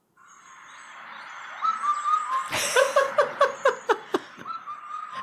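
A bird call heard in a recording, a rising series of sharp, rhythmic hooting notes that speed up into a chuckling, laugh-like burst, fairly loud and close with no talk over it.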